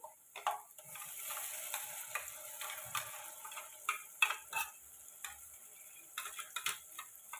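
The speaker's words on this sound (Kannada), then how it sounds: "ಇವಾಗ ನಾನು ಇದಕ್ಕೆ ರುಬ್ಕೊಂಡಿರೋವಂಥ ಶುಂಠಿ ಬೆಳ್ಳುಳ್ಳಿ ಮೆಣಸಿನ್ಕಾಯಿ ಪೇಸ್ಟ್ ಹಾಕೋತೀನಿ" Ginger, garlic and green chilli paste hits a hot pan for aloo chicken masala, giving a steady quiet sizzle broken by frequent sharp ticks and scrapes of a spatula.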